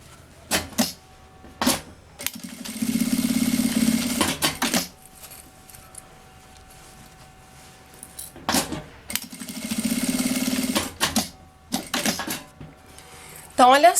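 Sewing machine stitching around a child's backpack, two sustained runs of whirring motor hum and needle clatter, close, separated by clicks and handling noises.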